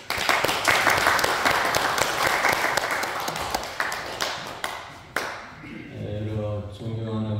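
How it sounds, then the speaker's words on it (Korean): A church congregation at a monthly ROTC fellowship worship service claps to welcome a pastor, a loud, dense burst of applause that thins out and fades, followed by some low hum and tonal sound near the end. "목사님 나오실 때 우리 뜨거운 박수로 환영하겠습니다"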